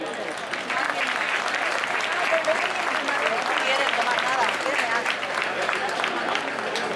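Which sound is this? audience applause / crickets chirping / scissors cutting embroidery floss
audience applause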